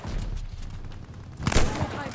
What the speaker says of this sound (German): Diese Sniper hat nur 3 Schüsse und ich werde jeden Schuss treffen.